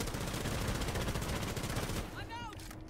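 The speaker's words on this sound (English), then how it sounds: "So much fucking shooting, I don't know where it's coming from." Rapid gunfire from the video game Rainbow Six Siege, a dense, continuous stream of shots for about two seconds, then fading with a brief swooping electronic tone near the end.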